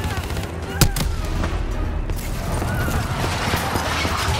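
Gunfire in the video game Call of Duty Black Ops 3, a loud, dense stream of automatic rifle shots and booming impacts over constant battle noise, with a sharp crack standing out near the start.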